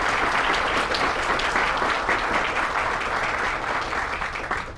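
Sustained audience applause for county commissioners at a community college student center groundbreaking ceremony, a steady dense clapping that holds evenly throughout and eases slightly at the end.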